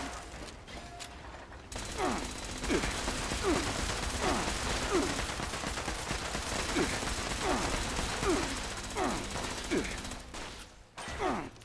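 Rapid weapon fire in Fallout 76 keeps up a long, steady run of evenly spaced shots for about ten seconds, with mechanical clicking and ratcheting over loud game noise, then stops abruptly.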